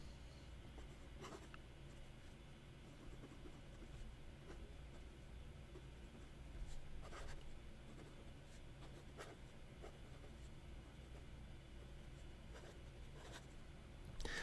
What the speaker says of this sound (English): when I write with this pen,